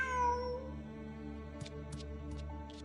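A cat meows in the Genshin Impact video game, a single drawn-out mew at the start over a steady synthesized music bed, followed by a few soft ticking clicks.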